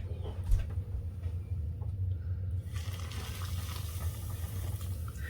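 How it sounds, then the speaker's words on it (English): Boiling water poured from a kettle into seed starting mix, a steady trickling and splashing that runs for several seconds at close range, fairly quiet, over a low background hum with no talking. "now I'm going to add my boiling water"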